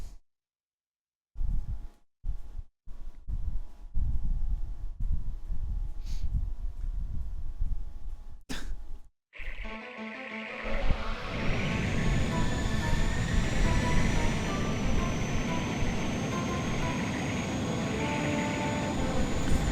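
Aircraft engine drone and a moving train in Sky Odyssey while refuelling from the train, opening with choppy cut-up bursts, then a steady loud rumbling engine tone that holds to the end.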